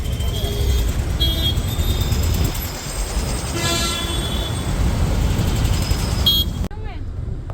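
Busy city road traffic heard through an open car window at a red light: a steady, loud wash of engines and road noise with horn toots and a passing rail-like rumble, with voices talking over it.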